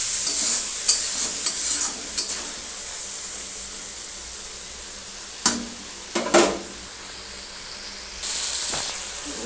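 Spice paste (masala) frying in a pan for tarka, a continuous sizzle with stirring scrapes and a few louder bursts of spatter, close and without talk.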